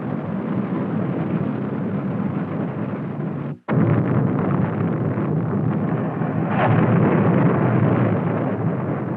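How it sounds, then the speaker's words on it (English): A Thor intermediate range missile launching: a loud, continuous rushing roar holds throughout, broken by a sudden instant of silence partway through, then swelling slightly louder near the end. "As we develop our missile force, the Thor, our first intermediate range missile."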